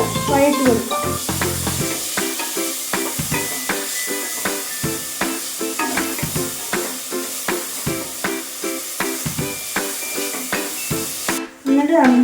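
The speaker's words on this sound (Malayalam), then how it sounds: "നമുക്ക് ഒരു തവി എടുത്ത് നന്നായിട്ട് വഴറ്റി കൊടുക്കാം" Momo filling sautéed in a pan and stirred with a ladle, rapid repeated scraping and tapping strokes over a constant loud sizzle.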